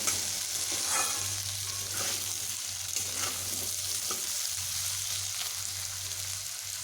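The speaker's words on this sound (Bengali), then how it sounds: "নুন মিশিয়ে আমি এইভাবে ভেজে নেব" Potatoes and onions salted and frying in a pan sizzle with a steady hiss, with a few soft scrapes of stirring and a low constant hum beneath, no voices.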